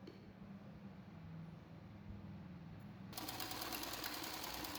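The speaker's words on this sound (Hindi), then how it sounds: "अब हम बेल्ट की सिलाई लगा रहे हैं और इसको रेडी कर रहे हैं।" A sewing machine runs steadily while stitching the belt of a side-plate baby frock, its fast needle chatter continuous and close, brightening and growing louder near the end, with no talking.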